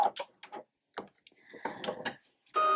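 A sewing machine stitches a seam on a fabric tote bag, giving short, separate mechanical clicks and whirs before a loud, steady burst of running at the end.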